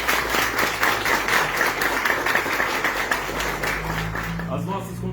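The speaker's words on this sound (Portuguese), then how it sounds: "Peço uma salva de palmas para os baixos." Audience applause for the bass section of a choir at a Christmas concert, steady broadband clapping for about five seconds with a low hum beneath.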